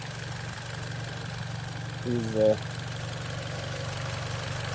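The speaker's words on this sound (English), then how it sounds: "2-liter turbo engine. It's a very small saloon car," A 2-liter turbo engine in a Mitsubishi Lancer Evolution 10 saloon idles with a steady low hum, while someone speaks briefly over it partway through.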